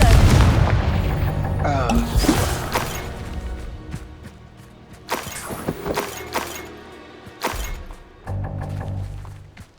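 Confringo fire spells burst in Hogwarts Legacy, several loud booming explosions with crashing debris, coming in irregular bursts with quieter gaps between them.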